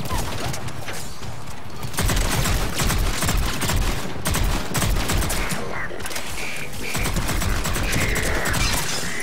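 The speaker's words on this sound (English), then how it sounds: "Assault rifle." Assault rifle fire in Mass Effect 3 combat, loud sustained bursts of automatic shots crackling nearly continuously, with a brief lull before the firing resumes in dense volleys.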